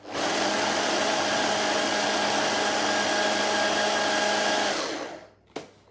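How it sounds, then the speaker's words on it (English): A small food processor, running a half batch for gluten-free hot cross scones, rubs butter into dry ingredients with a loud, steady motor whir that holds for about five seconds, then cuts off abruptly, leaving a brief clunk. "I'm just using my smaller food processor today because I'm actually making just a half batch."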